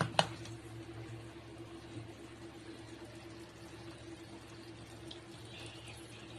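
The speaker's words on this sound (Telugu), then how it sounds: "మనం ఇంకా ఈ అన్నాన్ని వడగట్టుకుందాం" Boiled rice for Hyderabadi chicken dum biryani is strained, with water draining in a steady, moderately loud rushing stream after a brief clatter at the start.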